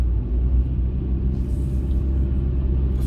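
Steady low rumble of a car driving along a levee road during Hurricane Ida, a continuous close drone of engine and tyre noise with no talk.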